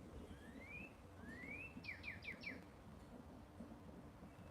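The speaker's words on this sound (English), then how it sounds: "I think that's a cardinal right now." A northern cardinal whistles two rising notes, then a quick run of four descending chirps, faint against a steady low rumble.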